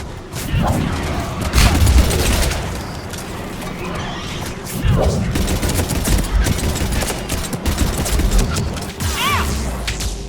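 Rapid gunfire bursts in a video game crackle in quick clusters alongside clattering effects and a horse-like whinny, moderately loud, with someone narrating faintly over the action.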